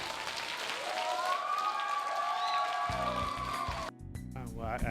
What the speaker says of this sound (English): applause for those top rounds real quick